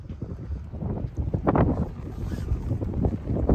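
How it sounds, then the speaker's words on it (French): Strong gusts of wind batter a sailboat during a thunderstorm off Turkey, a steady rushing roar with buffeting bursts and a sharp surge midway, no one talking. "Là, il commence à y avoir des bonnes rafales."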